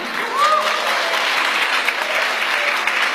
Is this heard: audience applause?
yes